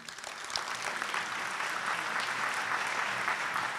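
Steady applause from an audience at an award ceremony fills the room for a few seconds, a dense, even wash of clapping without voices.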